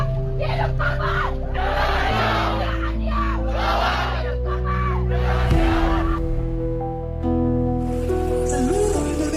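A student protest crowd in Indonesia shouts and chants together in loud, rhythmic bursts, a dense wall of many voices with cheering swells throughout.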